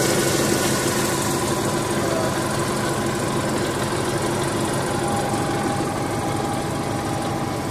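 Truck engine idling steadily and close by during a roadside repair, its oil-soaked motor giving a constant low rumble with a faint knocking texture throughout.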